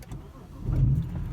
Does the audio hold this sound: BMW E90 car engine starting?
yes